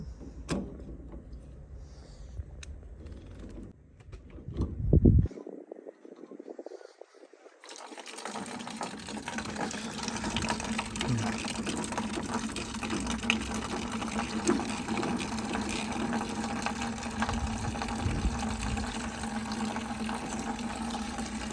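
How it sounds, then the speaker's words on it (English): Antifreeze draining from a loosened drain hose on a CAT 908 loader into buckets, a steady continuous liquid rush that starts abruptly and runs on without pause after a few brief knocks and handling sounds. "So that's how you drain the antifreeze."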